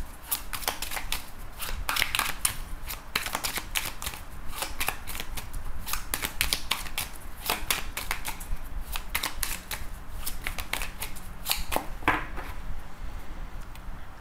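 Tarot cards shuffled steadily by hand for the whole stretch, a dense run of crisp riffling flicks and slaps, close and fairly loud, with no voices.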